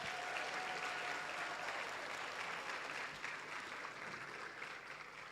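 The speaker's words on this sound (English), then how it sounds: "Let's give them a huge round of applause." A large audience at an awards evening on a seaside boardwalk venue applauds in a sustained, fairly distant wash of clapping that holds steady and eases slightly toward the end, with no voices over it.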